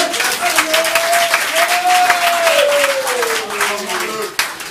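Congregation in a church service applauding and cheering together, a steady wash of clapping with a sustained voice rising through it, holding loud for several seconds before easing off.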